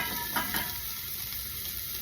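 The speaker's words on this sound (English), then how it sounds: "I'm going to lightly cook all these veggies by adding some salt and pepper" Vegetables including asparagus, seasoned with salt and pepper, cook in a pan with a steady soft sizzle and a few brief stirring scrapes near the start, close and continuous with no talking.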